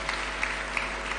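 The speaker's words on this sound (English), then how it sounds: "We can give him a warm clap as he's approaching the stage." Applause from a summit audience in Kenya as a president approaches the stage, a faint, steady patter of many hands heard at a distance with a low hum beneath.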